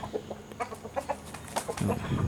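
Chickens cluck softly and steadily at close range while being fed paddy rice mixed with cooked rice in the early morning before transport, with short, overlapping calls and no talking.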